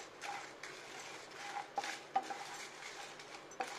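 Red chillies are dry roasted in a pan over a low flame, with faint, close scraping and stirring and a few light clinks of a utensil against the pan.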